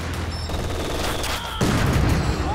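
Mortar fire and battlefield gunfire in Company of Heroes, a 4v4 match on the Nordwind map, rumbling as dense overlapping blasts that swell louder after a sharp impact partway through, with no talking.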